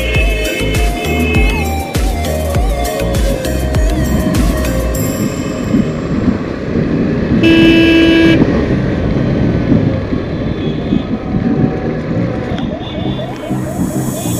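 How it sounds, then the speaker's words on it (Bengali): Car horns honk in a dense traffic jam, heard from a Yamaha Saluto motorcycle caught in the queue: a steady road roar with scattered toots and one longer, louder horn blast midway, without talk. "সামনের গাড়িগুলো উড়াল দিবে তাদের হর্ন শুনে"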